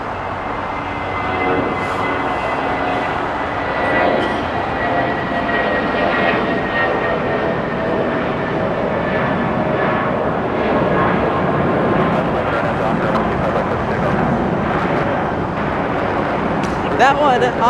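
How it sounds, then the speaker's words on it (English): A jet airliner takes off at Los Angeles airport with a loud, sustained engine roar that stays steady and close throughout, with faint talk underneath. "Now it's time to see this one take off."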